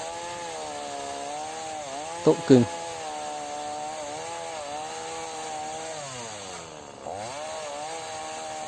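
A small chainsaw with an 11.5-inch bar cutting tamarind wood hums steadily at idle, its pitch rising and falling as it revs, with a brief sharp burst and a voice speaking nearby.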